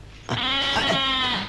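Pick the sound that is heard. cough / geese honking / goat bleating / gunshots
goat bleating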